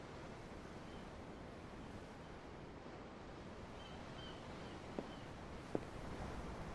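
Steady ocean waves in the video game Tales of Arise, a soft continuous wash of surf with a breezy hiss, heard alone, with two small taps near the end.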